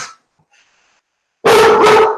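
Dogs burst into loud, close barking at another dog being walked past on the street outside, a short sustained volley after near silence.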